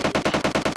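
Rapid automatic gunfire from the battle game PUBG Lite, a tight burst of about eight evenly spaced loud shots in under a second, with no voices over it.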